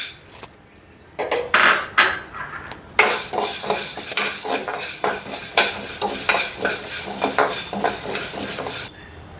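Chana dal roasting dry in a pan, loud scraping and stirring with a spoon and a busy crackle of lentils shifting against the metal, steady for several seconds before stopping abruptly.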